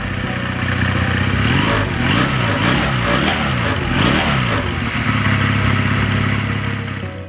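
A 2005 Honda Rebel 250 (CMX250) motorcycle engine being revved close up, throttle blipped repeatedly so the pitch rises and falls in quick waves over a steady loud engine rumble.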